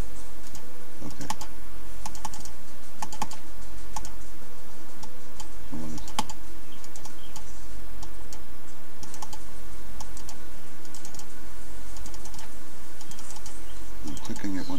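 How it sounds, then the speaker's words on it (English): A computer mouse button clicks during a ships-at-sea simulation game, scattered sharp ticks over a steady game background hum, with no talk heard. "I'm clicking it when it's green."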